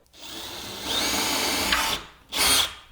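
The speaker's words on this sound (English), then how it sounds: "we're gonna take our drill, we're gonna put it in the pilot hole so you get it nice and squared up with the hole" Power drill boring through a pilot hole in a wall, a close, loud whining burst that revs up, holds for about a second, dips, then spins again briefly, with no voices.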